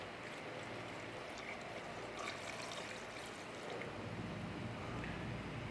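Milk pouring into a pot while making sweet carrots in creamed milk, a steady liquid trickle and splash that carries on evenly for several seconds, close and moderately quiet.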